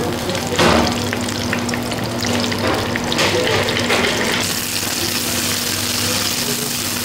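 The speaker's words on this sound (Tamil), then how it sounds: "ஜுயின்னு ஒரு சவுண்ட் ஒன்று வரும், அப்புறம் எண்ணெய் தெரிச்சு" A tempering for mutton gravy sizzles and crackles steadily in hot oil, with a sudden loud burst of spattering at the start and a dense hiss continuing throughout.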